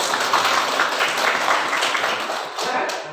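A classroom group claps for presenting students, a dense, continuous burst of applause at close range that tapers slightly near the end.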